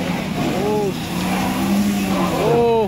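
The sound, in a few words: ambulance bus engine straining to climb a steep road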